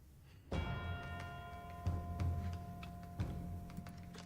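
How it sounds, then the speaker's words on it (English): A bell tolls in The Great Ace Attorney Chronicles, three resonant strikes a little over a second apart, each ringing out and fading, fairly quiet. "Random tolling of the bell."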